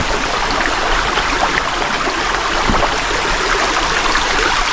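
Creek water flows steadily along a wooded creek bottom, a continuous, even rushing hiss with no pauses, moderately close and heard alone without talk.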